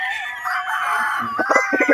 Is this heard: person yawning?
no